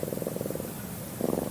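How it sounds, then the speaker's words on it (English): An injured kitten purrs while being stroked, a soft, rapidly fluttering low rumble heard in two close bursts with a short pause between them. "It began to purr."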